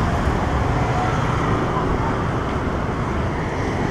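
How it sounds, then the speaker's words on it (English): Steady street traffic on a Bangkok road, vehicles passing close behind with a continuous loud roar and low rumble, no voices. "I've got traffic coming up from behind me"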